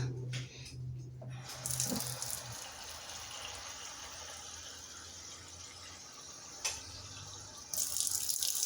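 Water runs steadily from a tap into a container for cooking rice, a close, continuous splashing hiss that shifts in tone as the flow changes, with brief clunks.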